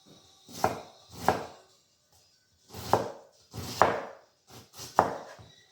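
Knife chopping onion on a board, a handful of close, crisp cuts in irregular bursts separated by short pauses, with no talking.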